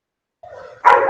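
A dog gives a short whine that breaks into a single loud bark, close and alone, lasting about a second.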